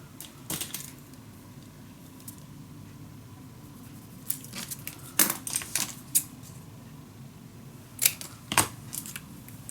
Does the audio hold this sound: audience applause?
no